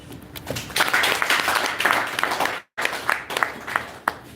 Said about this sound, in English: Is another round of applause for the CC for that very wonderful remarks